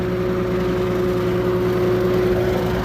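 A modified brush cutter mowing grass on an uphill slope gives a steady, loud engine drone with a constant tone and no voices.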